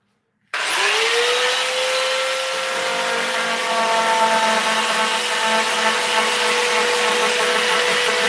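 Power sander grinding fiberglass around openings, starting abruptly and running steadily and loudly with a high whine and faint pitch wavers, close up with no talking.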